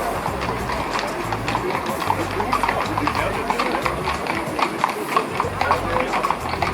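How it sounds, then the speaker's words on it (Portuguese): Horses' hooves clip-clop along a busy street in central Vienna near St. Stephen's Church, a steady rhythmic clatter beneath constant crowd chatter and city bustle. "Cavalos lindíssimos."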